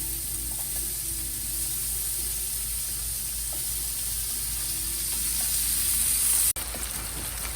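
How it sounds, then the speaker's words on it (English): Bacon pieces sizzle in a hot pan, a loud, steady close-up hiss that swells slightly before a brief cut, with no voices heard. "I'm just gonna get them into the pan and let them start cooking. Kind of break it apart as we go here. Nice hot pan."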